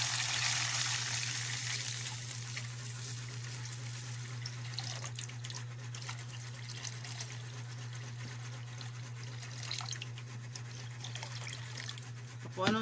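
Water runs steadily into a cooking pan for miswa noodle soup, a continuous close hiss and splash that holds at a constant level throughout, with a low steady hum underneath and no talking.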